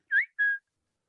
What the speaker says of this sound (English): this is the other tick she does is this whistle